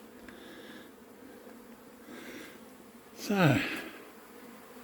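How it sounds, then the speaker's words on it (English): A honeybee buzzes close by at a backyard beehive, a short rising-and-falling whine near the end, with quiet speech and faint outdoor background around it. "It's a bee."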